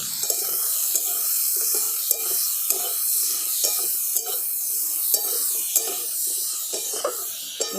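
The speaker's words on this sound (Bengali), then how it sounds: "দেখুন ঝিঙে আর আলুটাকেও ভালো করে ভাজা ভাজা করে নিয়েছি" Ridge gourd and potato frying in a pan with salt and turmeric, a continuous hissing sizzle broken by regular rhythmic stirring strokes about every half second, close and moderately loud with no voices.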